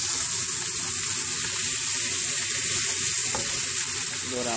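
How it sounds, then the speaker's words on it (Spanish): Chicken pieces brown in a pan for rice, giving a loud, dense, unbroken sizzle close up, with no talking. "Doramos poco a poco el pollo, lo vamos dorando"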